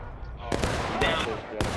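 Black-powder muskets loaded with buck and ball fire in a ragged volley at a river crossing reenactment, two or three loud sharp cracks close by with voices shouting underneath.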